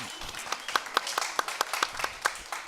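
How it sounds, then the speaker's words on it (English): An audience at a large live evening event claps steadily for a few seconds, a dense patter of many hands with sharper individual claps standing out, fairly distant and moderate in level. "A big round of applause for Mrs. Rivki Bernstein for being here this"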